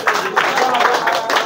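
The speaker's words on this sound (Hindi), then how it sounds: "तालियां बजनी बंद नहीं होनी चाहिए" Applause and clapping from an audience honouring prize-winning students at a school result and award ceremony, a steady dense patter of many hands throughout.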